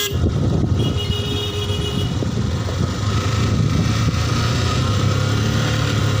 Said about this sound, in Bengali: ফুল ইঞ্জিন ব্রেকে গাড়ি দেওয়া আছে।